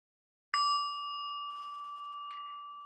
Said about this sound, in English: I'm going to ring our meditation bell to get started.